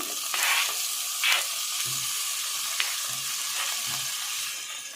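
Chopped tomatoes sizzle and fry in a pan with ginger garlic paste for an egg tomato curry. A steady hiss carries through the clip, broken by a few stirring scrapes, and no one speaks.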